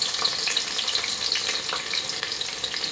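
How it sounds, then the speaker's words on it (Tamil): Sliced big onions frying in a pan until golden, a dense continuous sizzle with some light stirring, close up and steady throughout, with no talking. "பெரிய வெங்காயம் எடுத்து போட்டுக்கணும் நல்லா பொன்னிறமாக வணக்கிக்கணும்"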